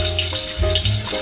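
Garlic dropped into hot oil in a kadai while preparing pappu dosakaya charu fries with a close, loud continuous sizzle and hiss, and faint tonal hums run underneath.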